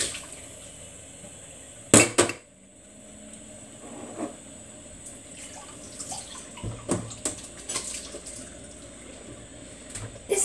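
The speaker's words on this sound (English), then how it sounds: "I'm being nice and I'm washing it up for them" Water runs and splashes in a kitchen sink as fruit-prep dishes are washed up, with occasional sharp clinks of glass or crockery knocking together over a steady wash of water at close range.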